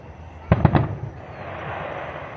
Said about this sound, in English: So the fireworks are wrapping up behind us.